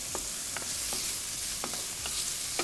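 Meat pieces sear and sizzle in a paella pan while a utensil stirs them, giving a steady close frying hiss punctuated by several scraping, clattering stir strokes, with no voices.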